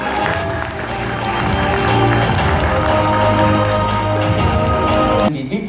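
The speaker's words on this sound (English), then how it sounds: "please give a round of applause to Vân Bi Trúc" Audience applause at an international talent and beauty awards ceremony for an author, steady dense clapping sustained for several seconds, loud and close, ending abruptly.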